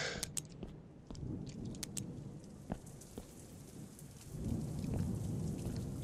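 Thunder and steady rain from a horror video game, a dense patter of drops with sharp crackles and a low rumble swelling toward the end.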